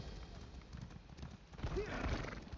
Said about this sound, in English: riding past full speed on a horse